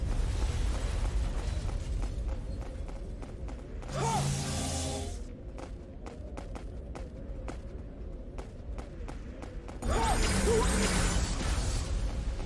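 Repeated synthetic blasts and bursts from the fighting game Phantom Dust in a tournament match, two big booming explosions standing out among rapid mechanical clicks and impacts.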